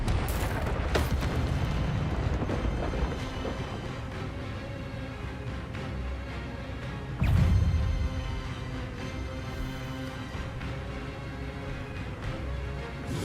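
Spell combat in Hogwarts Legacy, with an Expelliarmus cast amid booming magical impacts, rumbling bursts and a heavy blast partway through over a steady background of battle noise.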